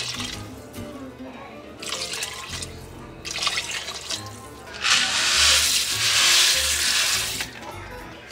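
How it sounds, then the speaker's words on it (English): Beef bone broth and boxed Rice-A-Roni pour into a pot of cooked meat, a bright liquid splashing and sizzling that swells loudly for a few seconds, with brief softer pours before it. "We are ready to add in the rossaroni and the beef bone broth."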